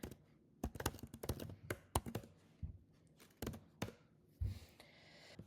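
Keys clatter on a computer keyboard in quick bursts of close, crisp taps separated by brief pauses, with quiet room tone between the bursts.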